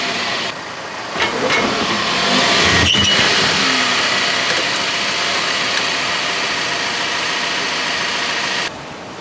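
A car engine runs outdoors ahead of an oil change. A loud, steady idle holds close by, with one brief rise in revs early on.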